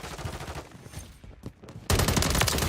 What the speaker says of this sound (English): them gunshots is still really loud